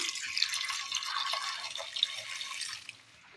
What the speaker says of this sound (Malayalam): ഇതിലേക്ക് വേകുവാൻ ആവശ്യമായ വെള്ളം കൂടി ഒഴിച്ചു കൊടുക്കാം.